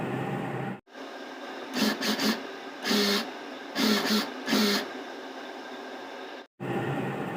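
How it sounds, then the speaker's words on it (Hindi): A sewing machine stitches the sleeves of a kurti in several short bursts of rapid mechanical whirring, separated by brief pauses, close and moderately quiet. "कंधी जोड़ने के बाद हम अपनी आस्तीनों पर सिलाई लगा लेंगे।"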